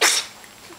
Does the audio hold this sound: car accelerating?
no